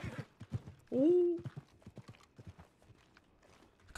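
Horse hooves in the video game Red Dead Redemption 2, a rhythmic clip-clop of steady footfalls with a short whinny near the start, fairly faint.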